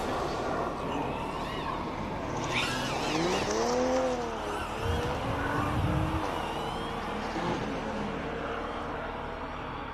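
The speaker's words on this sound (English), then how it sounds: "Guy Davies is on track in his Porsche. Let's see what he does through the first sector." A Porsche race car on a hillclimb track, its engine loud and close, rising and falling in pitch through gear changes as it passes, with faint voices in the background.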